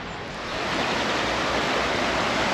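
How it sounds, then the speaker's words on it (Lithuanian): A muddy brown forest stream flows in the Black Forest with a steady, broad rushing wash of water that swells in at the start and then holds loud and continuous. "iš miško teka rudas vanduo"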